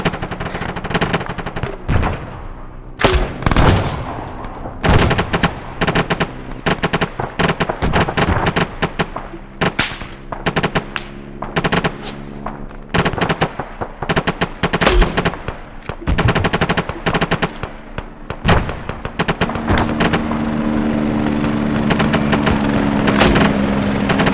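Video game combat in an amphibious assault raid, with sustained bursts of automatic gunfire and heavy cannon shots firing HEAT rounds, loud and close, continuous rattling punctuated by sharp booming impacts throughout.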